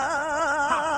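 Turntable scratch of a long screaming vocal sample, a sustained wavering scream-like tone that warbles up and down in pitch as the record is pushed back and forth, loud and close with no talking.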